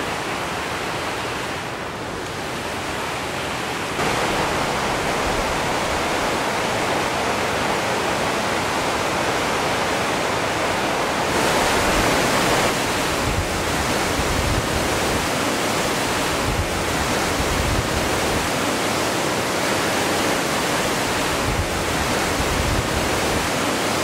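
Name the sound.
glacier valley stream water rushing on Langtang trekking road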